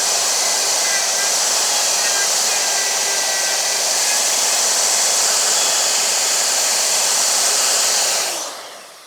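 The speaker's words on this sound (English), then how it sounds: "Now I'm ready to router this first one out." Wood router cutting a shelf along a router template, a loud steady high-pitched whine that holds for about eight seconds and then winds down as the motor stops.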